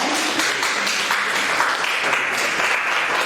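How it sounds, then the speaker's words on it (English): Audience applause welcoming a speaker onto the stage at a Bitcoin and finance event in Ghana, a full, steady roar of many hands clapping at an even, loud level throughout. "please help me welcome Mr. Emmanuel Kankam with a round of applause"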